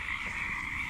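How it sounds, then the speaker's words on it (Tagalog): Frogs croak in a continuous dense chorus outdoors in Sta. Rosa during a cobra hunt, a steady shrill drone that stays even and moderately faint throughout, with no voices. "Palaka. Amas na yun."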